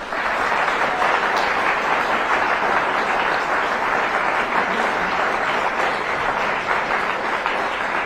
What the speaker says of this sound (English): Let's mahalo both candidates with a big round of applause.